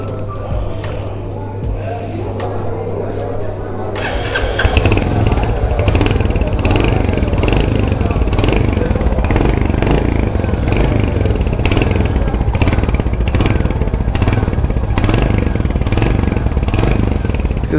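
A Royal Enfield Hunter 350 motorcycle engine fires up after a few seconds of quiet hum, then idles loudly and steadily with a rough, throbbing exhaust note.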